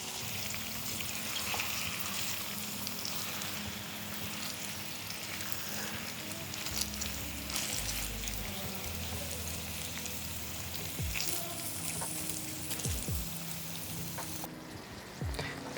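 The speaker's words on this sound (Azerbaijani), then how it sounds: "Artıq soğanlar biraz qovurulmağa meyilli olduqda artıq əti də əlavə edirəm bura." Meat fries with onions in a pan, giving a steady, moderately loud hiss and crackle that continues unbroken throughout, with occasional faint clicks.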